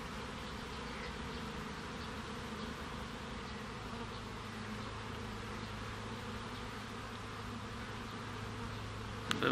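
A steady, dense buzz of many honeybees in flight at an apiary, a continuous droning hum that stays even throughout, with no voices.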